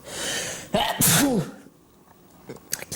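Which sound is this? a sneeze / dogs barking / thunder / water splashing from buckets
a sneeze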